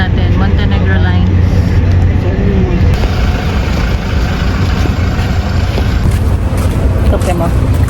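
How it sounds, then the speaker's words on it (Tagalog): A Montenegro Lines passenger ferry on a trip to Puerto Galera, Oriental Mindoro, produces a loud, constant engine rumble and onboard hubbub, with people talking nearby over the drone. "Ito ang sasakyan natin. Montenegro Lines."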